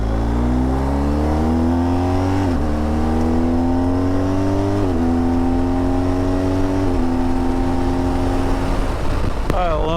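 A motorcycle rides along, its engine pitch climbing and dropping through several gear shifts in a loud, continuous drone.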